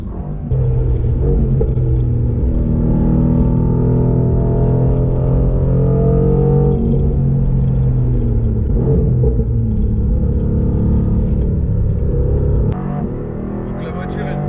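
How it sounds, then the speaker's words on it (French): A 585-horsepower Mercedes-AMG GT R climbs a mountain pass, its engine a loud, close, sustained drone that holds strong for most of the run before easing near the end. "Donc la voiture elle fait 585 chevaux et ça monte vraiment vite"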